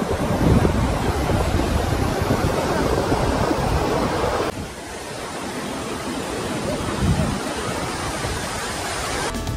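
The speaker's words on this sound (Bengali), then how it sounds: "চলে এসেছি একেবারে সমুদ্রের পাড়ে।" Sea waves wash onto the shore at Tajpur beach as a steady, loud broadband roar, mixed with gusty wind buffeting the microphone.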